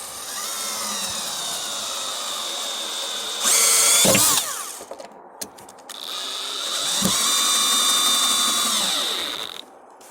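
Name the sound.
drill driving a screw into wood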